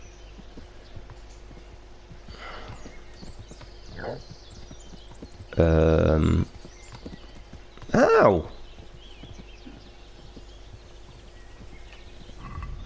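A horse in the medieval game Kingdom Come Deliverance, with steady hoof clip-clops and two loud, drawn-out whinnies close by, mixed with a man's occasional speech and a pained exclamation.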